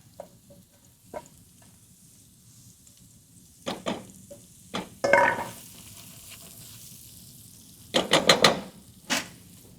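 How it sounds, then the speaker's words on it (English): Onions and celery sweating in a pot for clam chowder, a low sizzle under several knocks and scrapes of a spoon against the pot, close and without talk. "And then I'll start with the onions and celery and just sweat that out a little bit."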